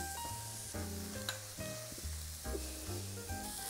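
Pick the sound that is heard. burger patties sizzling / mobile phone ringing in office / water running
burger patties sizzling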